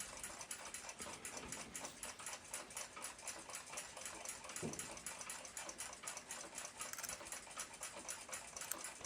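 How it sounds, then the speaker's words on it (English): A United States pocket watch balance wheel swinging freely while not yet fastened down, a fast, even, faint mechanical ticking that continues steadily throughout. "the balance wheel is in motion and it's not even fastened down yet"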